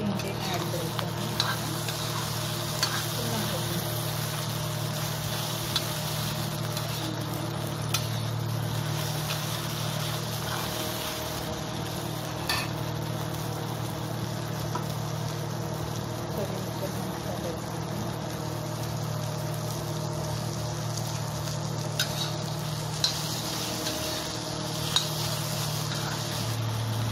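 Okra (bhendi) fries in a pan for a Marathi-style bhaji, a low continuous sizzle with a steady hum beneath and occasional faint stirring clicks, heard close and without voices.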